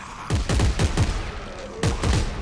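Gunfire in the video game Dead Space 3 sounds as two clusters of loud, rapid shots, each a quick rattling burst of several cracks separated by a short pause.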